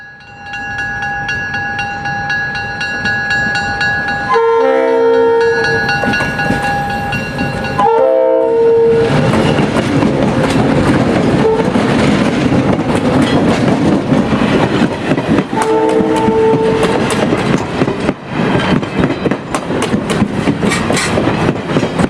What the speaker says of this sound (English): The 2 ALCOs smoke it up as they accelerate forward and roll past the photo line